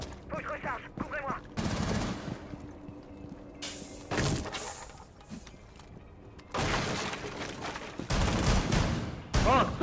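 Bursts of automatic gunfire in the tactical shooter Rainbow Six Siege come in several loud, close volleys separated by short pauses, with game sound effects in between and a player's voice at moments.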